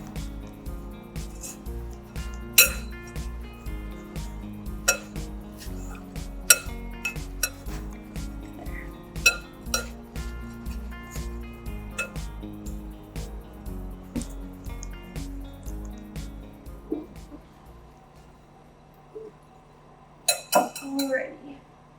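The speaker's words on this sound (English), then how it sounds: "I'm going to mix all the dry ingredients together before moving on with the wet ones" Dry ingredients for gluten-free banana bread are stirred in a bowl, making repeated light clinks and scrapes of a utensil against the dish in an uneven rhythm. A brief lull follows, then a few louder clatters.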